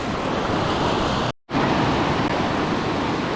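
Rushing water from a creek running high after heavy rainfall, a steady loud broadband roar close by, broken by a brief gap of silence before it resumes.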